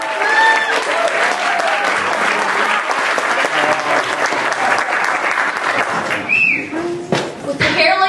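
A crowd gives a loud, sustained round of applause as a performer named Zaba is welcomed to the stage. The clapping is thick and continuous, with a few whistles on top, before it thins and breaks off near the end.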